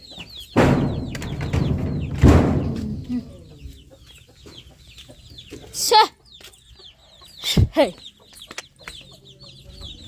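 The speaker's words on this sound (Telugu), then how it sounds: "మా కోళ్ళని బయటకు పోకుండా చూసుకోవాలి" Chickens cluck and squawk around a rural homestead in several separate bursts. Some calls are loud and close, with quieter gaps and softer chirps between them.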